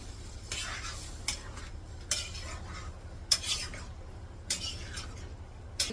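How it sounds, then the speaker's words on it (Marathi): Coarsely mashed vegetables for pav bhaji are stirred in a kadhai, giving soft repeated scrapes and clinks of the spoon against the pan roughly once a second over a low steady hum. "टाकते कढाईमध्ये चांगली मिक्स करून घ्यायची"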